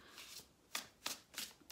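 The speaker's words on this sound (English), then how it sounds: "I just want to do one more shuffle here" Cards being shuffled in three quick riffling bursts, close and fairly quiet, with no voices.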